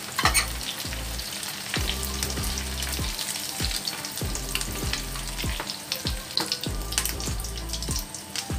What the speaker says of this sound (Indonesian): Untuk sisa telurnya teman-teman bisa ikutin goreng ya. Nah, bisa dikucurkan seperti ini, nanti biar jadi telur crispy.